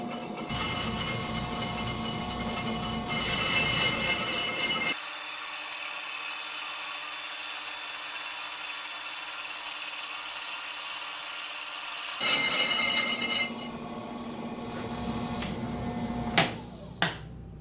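An RTI BRC550 brake lathe cuts a brake rotor on medium auto feed, a steady metallic whine and grinding scrape running continuously at close range, with louder machine clatter at the start and end and two sharp knocks near the close.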